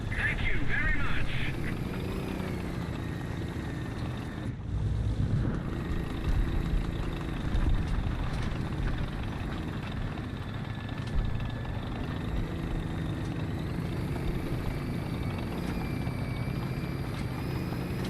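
A droning aircraft engine from a video game runs steadily throughout, a continuous low hum with a brief dip near the start, while a person speaks over it at times.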